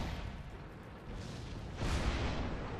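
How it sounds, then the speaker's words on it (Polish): A T34 tank cannon fires in a tank video game, a deep booming blast that swells suddenly partway through over a continuous low rumble, with no voices. "Kolejny strzał T34 z tyłu."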